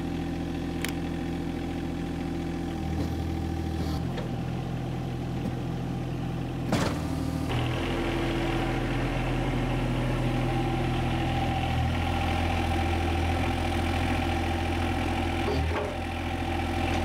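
A mini excavator's gas engine idles steadily while its arm is worked, a close, continuous low hum with hydraulic whine and occasional knocks and clunks.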